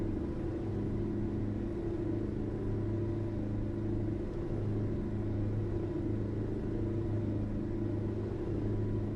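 A truck engine in Euro Truck Simulator 2 drones steadily throughout, a continuous low rumble with a faint shifting rev and no talk over it.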